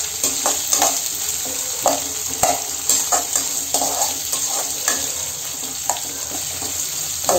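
Medium-cut onions frying with a pinch of salt in a pan, a loud continuous sizzle broken by frequent scraping stirs and clinks close by.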